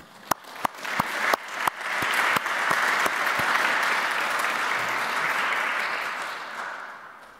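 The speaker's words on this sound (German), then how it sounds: "das, glaube ich, verdient einen Applaus." A few sharp, separate claps at first, then the audience at a scholarship foundation's presentation event breaks into full, sustained applause that holds steady and slowly fades.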